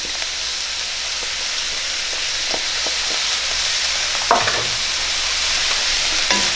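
Celery, white onions and carrots being stirred in a pan, a steady low sizzle with a few sharp scraping clicks of the spoon against the pan near the end.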